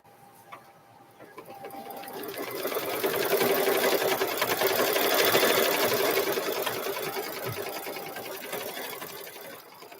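A sewing machine runs steadily while stitching rows of a cow-themed quilt, its dense mechanical whir swelling and holding for several seconds, close and loud, with no talk over it.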